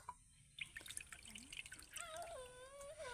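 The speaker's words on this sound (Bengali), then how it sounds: "আরও এক বাটি জল দিয়ে দেব" Water is poured from a bowl into a batter for colorful patishapta crepes, a faint close trickle and splashing with bright dripping and gurgling tones against a quiet room.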